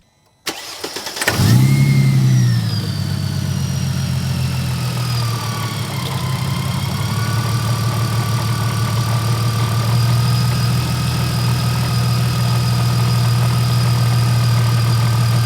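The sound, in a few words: car engine starting and idling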